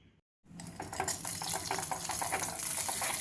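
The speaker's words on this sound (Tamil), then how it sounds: "முந்திரி பருப்பை நெய்யில் நல்லா வறுத்தாச்சு." Broken cashew nuts fry in ghee in a kadai on the stove. After a short silence, a soft, close, steady sizzle starts and continues with faint stirring.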